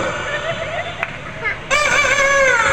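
A man mimics the crow of a one-kilogram rooster with his voice: strained, wavering calls that swell into a louder, sustained crow near the end, up close.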